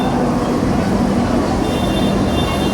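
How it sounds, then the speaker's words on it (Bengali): The Himgiri Express train pulling into platform 14 at a station, a loud continuous rumbling roar with steady mechanical hum throughout. "ট্রেনটা ঢুকছে,"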